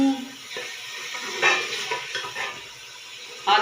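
Chicken and potato curry sizzles in hot masala and ghee in a Punjabi-style pan, with a steady frying hiss and intermittent stirring scrapes and utensil clinks close by.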